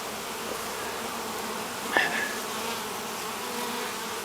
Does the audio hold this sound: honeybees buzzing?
yes